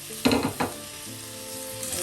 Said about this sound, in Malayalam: അതും കൂടി ഇതേപോലെ പെട്ടെന്ന് വഴറ്റാം.